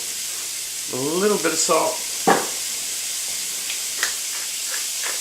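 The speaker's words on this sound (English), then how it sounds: "So I'm going to slide the onions right on in there." Onions sizzle in a pan as the base for a keto cream of mushroom soup, a steady frying hiss running beneath a person speaking.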